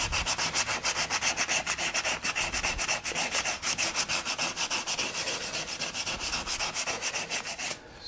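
Steady back-and-forth hand sanding of wood with 220 grit sandpaper, to smooth a ridge left by a power sander while rounding an edge for carving; rhythmic rasping strokes that are close, even and continuous, stopping near the end.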